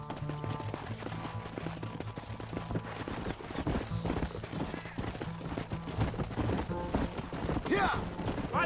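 Rhythmic hoofbeats clip-clop along over a busy, clattering Red Dead Redemption soundtrack, with a horse's whinny rising near the end.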